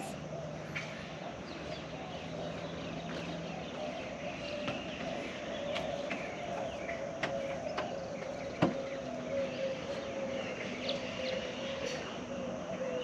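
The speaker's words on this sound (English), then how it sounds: "Do you hear the birds?" Scattered bird calls and chirps by the lagoon at Bacalar, Mexico, over a quiet outdoor ambience, with occasional sharp clicks and a faint low hum.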